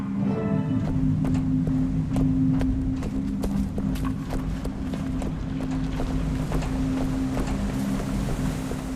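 In the Guild Wars 2 video game, an engine runs with a constant low mechanical hum under scattered sharp clicks and clanks, holding a steady level throughout with no speech.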